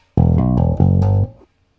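A few low, plucked bass guitar notes in quick succession, round and resonant, ending a bass riff before ringing out.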